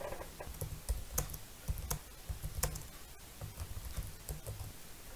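Someone types quietly on a computer keyboard during eOffice office software work, giving a steady patter of light clicks with a few sharper, louder keystrokes and no talking.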